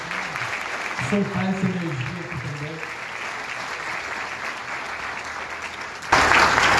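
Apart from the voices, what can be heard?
audience applause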